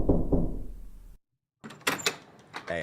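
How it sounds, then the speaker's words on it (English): Knocking on a door as a sound effect in a podcast, a couple of sharp low thuds, then a brief silence, followed by more knocks and door-like clatter. "That sound effect for knocking the door was a little too good"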